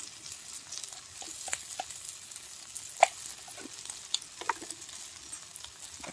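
Ginger frying in hot oil, a continuous close sizzle broken by a few sharp crackles and pops, with no voices.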